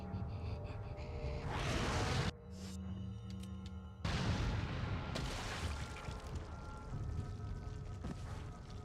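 Explosive booms from a mine launcher in the survival horror video game Resident Evil 4, loud blasts that cut in sharply and leave a rumbling tail, with game ambience continuing between the hits.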